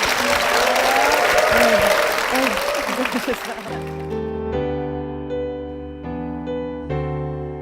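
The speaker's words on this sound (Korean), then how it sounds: "두 분께 축복의 박수 부탁드립니다." A church congregation applauds loudly with steady clapping, which fades as sustained organ or keyboard chords begin and carry on alone.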